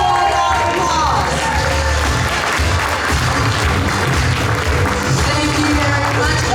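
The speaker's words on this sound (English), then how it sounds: "Let's give them all a round of applause." A large audience at a Toastmasters district training event applauds steadily, a loud continuous wash of clapping with scattered cheers that holds at full strength throughout.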